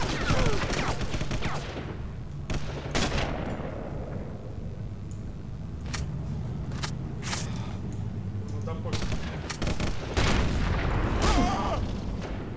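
Rifle shots and battle noise in the sniper shooter Sniper Elite: several sharp, loud cracks at irregular intervals over a steady rumble of combat, with someone talking throughout.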